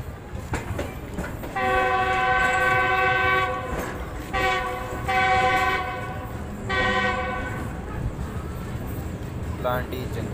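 A train pulling into Landhi Junction station in Karachi, with repeated loud horn blasts in several long sustained bursts over rumbling rail noise, while voices talk in the background.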